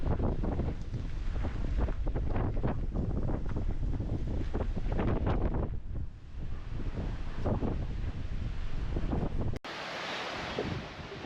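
Strong gusting wind buffets the microphone at the water's edge by a marina, a heavy continuous rumble with surging gusts and water noise beneath, no talking.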